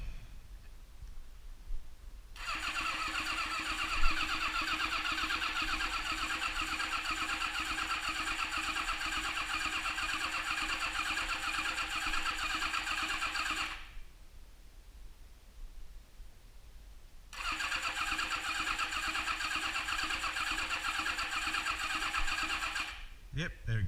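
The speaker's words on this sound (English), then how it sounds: "Okay, so we'll wind him over, yeah, hopefully, and see if that oil light goes out." A Honda CBX 750F motorcycle engine cranks over on the starter in two long, steady whirring bursts separated by a short pause, fairly quiet and without firing.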